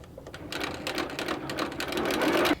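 A sewing machine runs briefly while chain piecing quilt fabric, a quick rattling run of stitches with rhythmic clicking, near and moderately loud, without talk.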